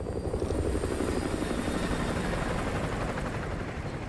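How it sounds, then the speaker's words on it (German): Steady enemy helicopter rotor drone in Call of Duty: Modern Warfare 2 Remastered, with a dense low thudding, constant and fairly loud throughout, no voices. "Feindlicher Heli auf Patrouille."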